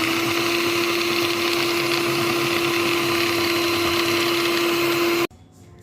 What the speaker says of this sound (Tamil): இப்போ இதையும் கொஞ்சம் லைட்டாக பீட் பண்ணிக்கலாம்.